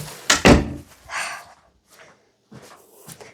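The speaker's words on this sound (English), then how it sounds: "I'm going to close the door." An indoor door is shut with a firm thud near the start, followed by softer rustling and faint movement in a quiet room.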